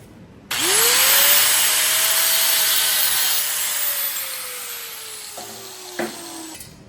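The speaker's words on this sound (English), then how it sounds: "Mark and cut the 2 large and 2 small spoons at the handle base position." A saw or cutting tool bites into metal spoons at the handle base, a loud sustained grinding whine that starts abruptly, slowly falls in pitch and ends with a couple of short scrapes.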